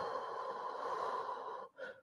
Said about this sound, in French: Respiration contrôlée, lente et profonde.